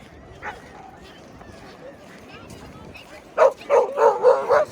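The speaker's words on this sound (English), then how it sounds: "Oh, look, there are more dogs over there." A dog barks several times in quick succession, loud and close, after a stretch of quiet outdoor background on a beach.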